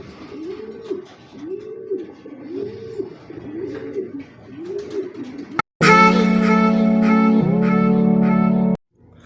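Racing pigeons cooing nearby in a slow rolling series of soft repeated coos, then abruptly replaced by a loud sustained tonal blare before cutting out.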